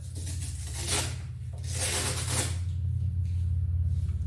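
Sandpaper rubbed over a wooden headboard piece, with close, raspy strokes that swell and fade in a back-and-forth rhythm, moderately loud over a low hum, with no talking.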